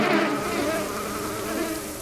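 Bees swarm at a hive in the video game Book of Hours, a dense, steady buzzing drone that fills the moment at close range with no pauses.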